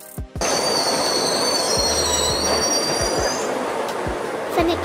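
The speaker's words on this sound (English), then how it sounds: "Funicular train." A funicular cable railway car's wheels squeal loudly and steadily on the rails, with high whining tones over a continuous rumble and a few soft clicks, after a brief quieter start.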